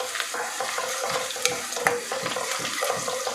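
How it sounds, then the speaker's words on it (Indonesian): Onion, curry leaves and mustard seeds sautéing in hot oil for a fish curry: a steady close sizzle with frequent scraping stirs and small crackles, no voices. "ini kita tumis ya, bawangnya, daun kari sama biji sawinya tadi kita tumis sehingga dia naik bau"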